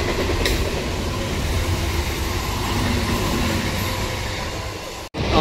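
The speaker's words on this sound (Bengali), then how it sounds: "আমাদের ট্রেন কিন্তু পাঁশকুড়া জংশন ঢুকছে" A Medinipur local train rolls into Panskura junction, a steady loud rumble of wheels and carriages heard from inside the coach, ending in a brief sharp dropout and jolt.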